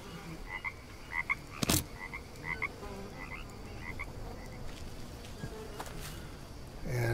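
Frogs croak in the jungle video game Green Hell, a steady chorus of short repeated calls under ambient forest noise, with one sharp loud burst partway through and no talking.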